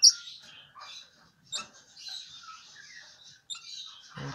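Parrot chicks in a nest box, fifteen days old, give thin high-pitched chirps and squeaky peeps in short bursts, close and fairly soft against a quiet background.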